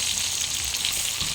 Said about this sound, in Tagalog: piniprito ko muna ang aking adobo pagkatapos kong alisan ng sabaw